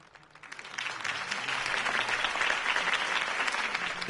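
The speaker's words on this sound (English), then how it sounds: "If only Mr. Wayne, my campaign's largest backer, could have heard that applause" A crowd in the video game Batman: The Telltale Series claps and cheers, the applause swelling quickly and holding steady, dense and moderately distant.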